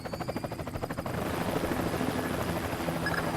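A helicopter's rotor in the video game Splinter Cell: Chaos Theory thumps in a rapid steady beat, then blurs into a constant whirring engine drone, fairly close and with no voices.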